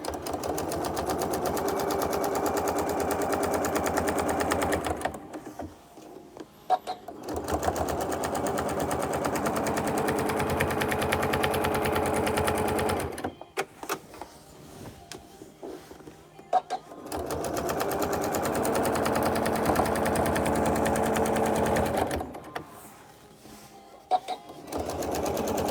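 A sewing machine stitches a quilt in long steady runs, stopping twice for a few seconds of quiet before starting again, with a person talking over the motor.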